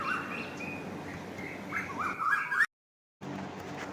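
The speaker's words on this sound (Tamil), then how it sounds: "மைனா" A myna bird calls with a run of bright, warbling chirps and whistles, fairly close and clear, breaking off abruptly before a quiet stretch resumes.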